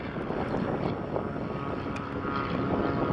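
A Maule propeller airplane departs at the Sun 'n Fun 2018 fly-in, its engine a steady, fairly distant drone mixed with wind noise.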